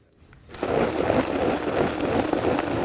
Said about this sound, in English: we've got that all in the blender, and we're going to pulse this for about a minute